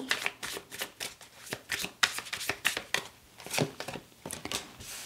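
Tarot cards are shuffled up close in a continuous run of crisp riffling and slapping bursts, fairly loud and alone.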